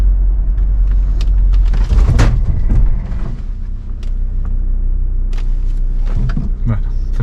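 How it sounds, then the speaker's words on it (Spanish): A Ssangyong Rexton 2 slows hard during a braking test, steady loud road and engine rumble inside the cabin with brief knocks and creaks as the car stops, and a person talking over it. "Vamos a hacer la prueba de frenado"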